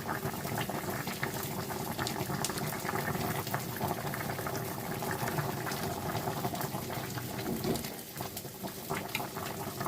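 Bottle gourd curry with shrimp bubbling vigorously in a pot, a dense, continuous gurgling and popping of boiling liquid heard up close and fairly loud throughout, with no one speaking.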